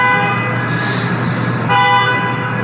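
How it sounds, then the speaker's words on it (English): Car horns honking in a parking lot at 4 a.m., two loud sustained toots in quick succession, close and steady, with no voices. "They're honking at each other."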